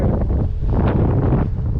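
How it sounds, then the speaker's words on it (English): Strong wind buffets the microphone, a loud, rumbling roar that gusts unevenly throughout. "gosh, it's windy"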